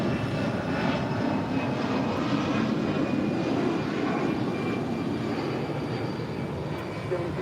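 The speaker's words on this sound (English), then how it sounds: "This is American Airlines Flight 335 departing to Phoenix, Arizona on an A320" An American Airlines A320 airliner takes off at LAX bound for Phoenix, its engines producing a loud, steady, broadband roar that fills the whole span without letup.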